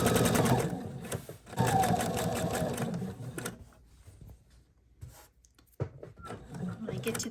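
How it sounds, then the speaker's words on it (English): A sewing machine runs a straight stitch up an apron pocket, a steady rapid mechanical whir for the first few seconds under a voice talking, then quieter handling noises with a brief click near the end. "I'm going to start sewing from the bottom of the pocket up to the top of the pocket using a straight stitch"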